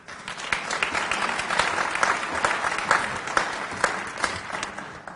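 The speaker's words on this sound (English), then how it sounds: "I got applause, my God." Applause from an audience at a business meeting, a brief round of uneven clapping with distinct individual claps standing out, moderately distant and fairly soft.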